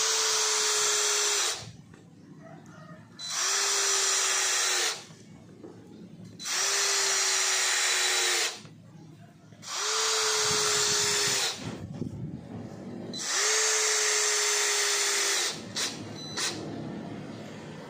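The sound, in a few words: Worksite CD334H cordless impact drill driving screw into mahogany wood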